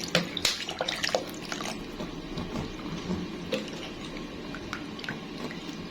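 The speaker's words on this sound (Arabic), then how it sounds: "انا هبتدي هحط ميه اهي" Water runs and splashes steadily into a container of apricot leather nearby, with small clinks and drips scattered through.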